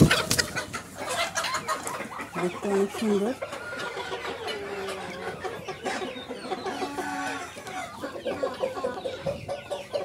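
Large Tiger breed roosters and hens clucking in a backyard poultry pen kept alongside ducks, repeated close clucks and calls while a person talks over them.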